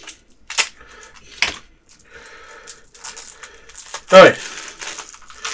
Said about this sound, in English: I'm having a hard time opening the cards.